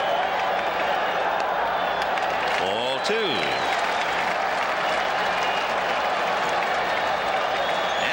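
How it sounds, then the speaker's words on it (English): Baseball stadium crowd at a 1986 World Series game, a steady broad roar of cheering and applause from many people throughout, with a commentator talking over it. "Crowd coming alive."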